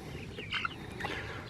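Delaware and Red Ranger meat chickens cluck and chirp in a couple of short, mid-level calls over a steady background hiss, with no talking.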